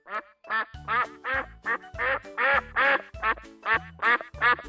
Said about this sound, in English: Ducks say quack, quack.